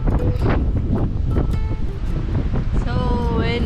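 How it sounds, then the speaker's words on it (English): Strong wind buffets the microphone in a continuous loud roar on a high lookout at a ghost town in Turkey, with a voice briefly audible through it near the end. "So windy."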